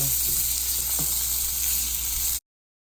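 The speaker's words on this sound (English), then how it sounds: "the cast iron is giving them that nice sear rather quickly" Plant-based Italian meatballs sear in a cast iron pan with a loud, dense, steady sizzle and crackle heard up close, stopping abruptly near the end.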